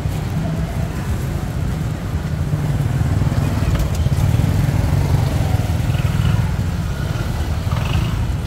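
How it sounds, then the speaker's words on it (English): Motorbikes ride past close behind at a street market in Jomtien, Pattaya, Thailand, a steady low engine rumble over crowd bustle and murmuring voices. "Keep hearing motorbikes coming up behind me."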